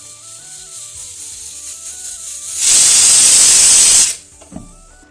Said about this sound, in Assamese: কুকাৰৰ পৰা গৰম ভাপবোৰ যাবলৈ দি কুকাৰটো খুলি আলুকেইটা উলিয়াই ল'লোঁ